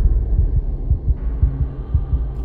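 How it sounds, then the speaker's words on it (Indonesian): Irregular heartbeat sound effect: low, muffled thumps beating unevenly and loud beneath a steady dark hum, with no voices. "Detak jantung mulai gak beraturan"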